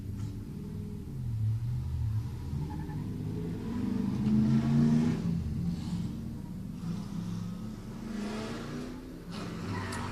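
Black Mazda RX-8 race car idling and revving at the starting line of a drift shootout event, a steady low engine rumble that swells in the middle and then settles back, with no talk.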